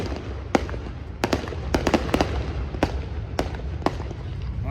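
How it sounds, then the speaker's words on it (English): Fireworks going off during bike week: a string of sharp, separate bangs and crackles at irregular intervals, fairly close, over a steady background rumble. "Got more fireworks. Every bike week, gotta get the fireworks in."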